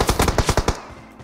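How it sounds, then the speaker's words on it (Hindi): A rapid automatic burst of about eight close gunshots fires in the battle royale video game BGMI, then cuts off abruptly into a short quiet tail. "एक बंदा सामने की तरफ से हमारे ऊपर गोली चलाता है"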